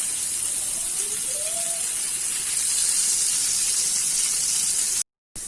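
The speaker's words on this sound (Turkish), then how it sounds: "Köftelerimi tavaya aldım ve arkalı önlü iki tarafını kızartıyorum köfteleri." Meat patties frying in a pan for wet hamburgers, a steady loud sizzle and hiss of fat that keeps on without a break, followed by a brief cut to silence near the end.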